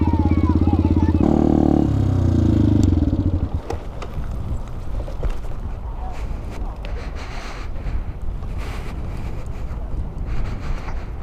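A Benelli 125cc motorbike engine runs with a steady droning note for a few seconds, then gives way to blustery wind noise and faint clatter, with people talking nearby.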